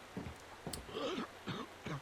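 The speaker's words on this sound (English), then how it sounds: "that coughing is super clear." A few faint, short coughs in the video game Resident Evil 4, spaced out over a couple of seconds, distant and quiet.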